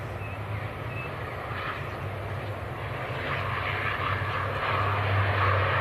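An Aer Lingus airliner from Belfast at Manchester Airport makes a steady jet engine roar that grows gradually louder, continuous and fairly close, with no talk over it.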